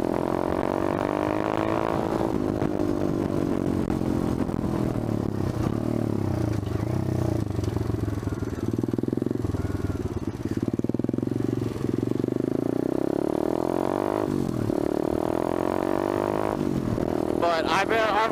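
Pit bike engine on a main road ride, a steady close drone whose pitch rises and falls with throttle changes and gear shifts, plus wind rush and road noise throughout.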